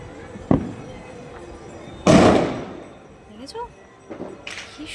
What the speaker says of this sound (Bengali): দেখো দেখো দূরে বাজি ফাটছে